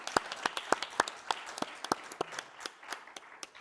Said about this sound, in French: Je peux l'applaudir.